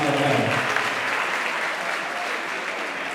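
Audience applause at a high school maths league excellence awards ceremony, a dense, steady wash of many hands clapping together, loud and sustained throughout with no voices on top.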